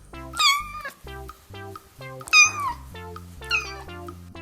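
A kitten meows three times, each a clear, rising then falling call with short pauses between, close and distinct over a quiet low background.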